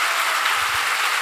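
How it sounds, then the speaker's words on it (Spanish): Audience applause fills a theatre after a show, a dense, steady wash of clapping that holds evenly through the brief moment. "Un aplauso."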